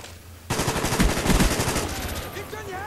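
Rapid automatic gunfire from an AK-47 in the video game Call of Duty: Black Ops, loud and dense with bursts of shots over roughly two seconds, then fading into game ambience.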